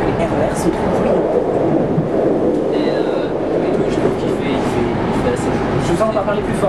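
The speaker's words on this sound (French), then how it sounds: "Est-ce que vous trouvez que les RER sont trop bruyants?" A noisy RER commuter train in the Paris region gives a loud, continuous rumble with rattling and clattering wheels close by. A voice can be heard over the din.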